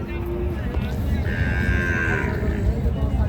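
Cattle low at a border cattle market near the Indian frontier, where crossbred bulls and cows are traded; a single long moo rises clearly over a dense, noisy crowd hubbub.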